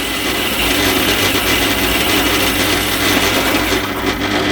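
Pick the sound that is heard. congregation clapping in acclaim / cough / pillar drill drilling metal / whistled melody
pillar drill drilling metal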